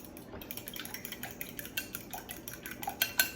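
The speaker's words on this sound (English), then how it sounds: "whisk them in here. I've got my fork" A fork whisks eggs in a bowl, quick rapid metallic clinking taps against the side in an uneven rhythm, close and fairly quiet.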